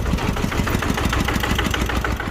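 KRT walking tractor engine running in a rice field, a loud, close, steady chugging thump with rapid rhythmic pulses and no voices.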